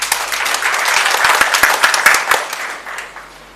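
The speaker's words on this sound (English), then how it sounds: "they deserve a big round of applause" Applause from an audience at an Agricultural Research Council presentation, building over the first second, holding with distinct claps and fading toward the end.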